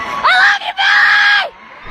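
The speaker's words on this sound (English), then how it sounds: "she started screaming at the top of her lungs while the entire audience was silent" A fan at a concert screams at the top of her lungs in a quiet hall, two long piercing shrieks with a short break between them, loud and close, with no crowd noise around them.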